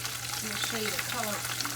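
Vegan fish frying in a pan, a steady close sizzle with scattered pops and crackles running without pause.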